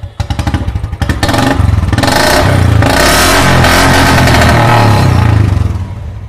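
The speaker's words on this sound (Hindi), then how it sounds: "वो long pipe long pipe Punjabi silencer है पंजाबी साइलेंसर है सुन लीजिए आप" A Royal Enfield Classic 350 motorcycle fitted with a long-pipe Punjabi silencer revs hard and close, its loud thumping exhaust pulsing steadily for several seconds before easing off at the end.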